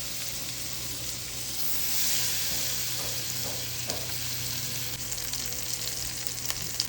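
Halved shallots sizzling cut side down in two tablespoons of melted butter over medium heat, a steady close frying hiss with a few soft crackles and pan stirs.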